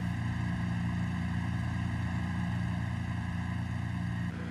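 An Aston Martin Valkyrie AMR Pro idles loudly in Forza Horizon 5, a dense, steady buzzing drone with strong tonal layers that cuts off abruptly near the end.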